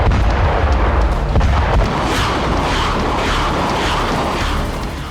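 Russian army rocket fire in Kupiansk, Ukraine booms in a loud, rapid series of heavy blasts, with rumbling echoes rolling on and slowly fading.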